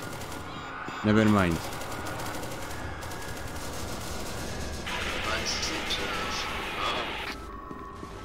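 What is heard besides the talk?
gunfire shooting a bot, from a video game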